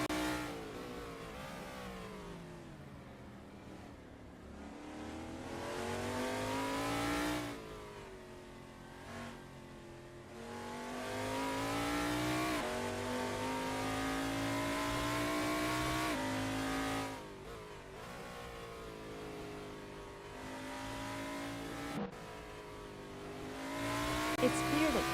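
Sprint race car engine in the SimSpeed racing video game on a qualifying lap, revving hard through long rising and falling sweeps, loud and continuous with brief lifts between bursts, with a commentator talking over it.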